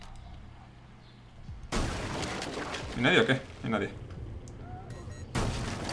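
Gunfire in the Rainbow Six Mobile video game, heard as bursts of loud shots clustered near the middle and end, mixed with game noise and someone talking over it.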